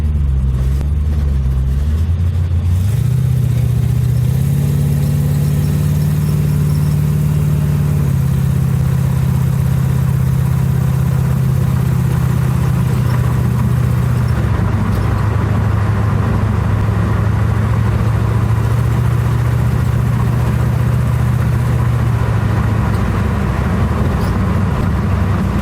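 A Chevrolet Nova engine on a test drive, a steady loud rumble that climbs and settles in pitch as it revs and cruises, with continuous road and wind noise throughout.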